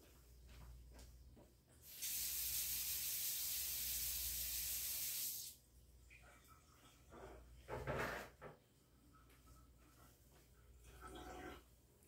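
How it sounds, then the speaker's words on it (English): A small handmade craft piece is rinsed under running water in a short, loud hissing gush lasting about three seconds, followed by quieter handling clatter and knocks. "I'm going to rinse this."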